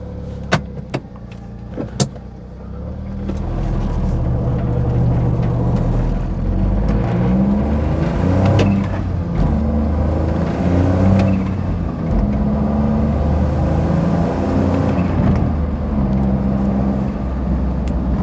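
A Smart Fortwo with a suspected boost leak runs its engine and revs up steadily, heard close and loud after a few sharp clicks at the start, with no voices.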